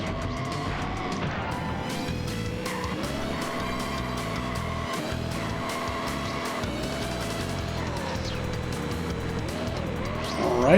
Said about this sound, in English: You can do very sharp turns by braking and holding the drift button at the same time.